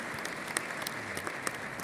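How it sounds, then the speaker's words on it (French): An audience at the FANAF 2025 insurance panel in Marrakech, Morocco, claps for a panelist: a steady, moderately quiet patter of many hands with a few sharper individual claps standing out, no talking. "Sous vos applaudissements,"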